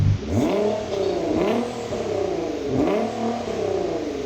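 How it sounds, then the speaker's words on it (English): A 650-horsepower Nissan GT-R engine revs up and down repeatedly, rising and falling in pitch with a deep, throaty roar, loud and close. "Let's hear the last car, the 650 horsepower one."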